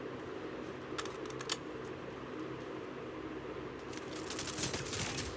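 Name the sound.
gunfire in Call of Duty Mobile video game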